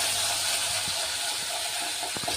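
Chopped green chillies and ginger sizzle in hot ghee, a steady bright hiss of frying that runs throughout with a few faint pops and clinks.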